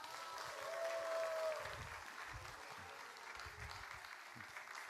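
A church congregation applauds during a Sunday worship service, giving steady, even clapping that swells briefly and then carries on at a moderate, slightly distant level.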